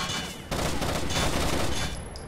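Sustained rapid gunfire from a firefight in Rainbow Six Vegas 2 fills the whole stretch, dense and loud, with a short dip before the shooting picks up again.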